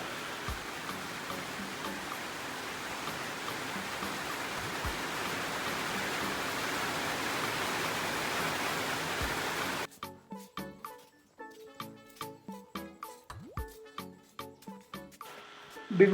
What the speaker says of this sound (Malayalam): അടുത്ത ദിവസം രാവിലെ ചെറിയൊരു മഴയാണ് ഞങ്ങളെ വരവേറ്റത്.